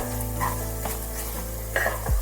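Daliya stirred with turmeric powder in a pan, a soft sizzle under a steady low hum with a few scraping strokes of the spoon and a clink near the end, close and quiet, no speech.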